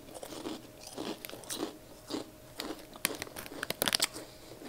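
Zapp's Voodoo kettle-cooked potato chips bitten and crunched up close, a run of sharp crisp cracks between softer chewing, getting denser and louder toward the end, with no talking.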